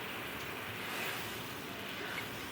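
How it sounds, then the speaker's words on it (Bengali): Hot water pours into a pan of frying spice paste for a boal fish curry, making a steady, loud hiss and rush that runs unbroken throughout. "এবার কিন্তু দিয়ে দিচ্ছি গরম জল।"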